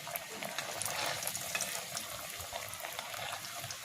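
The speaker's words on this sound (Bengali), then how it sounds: "এই কাটলেটগুলো একটু মিডিয়াম আঁচে ভাজবেন, তাহলে ভাজাটা খুব সুন্দর হবে।" Jackfruit cutlets fry in oil in a pan over medium heat with a steady, soft sizzle. The faint crackle continues evenly throughout, and nobody speaks.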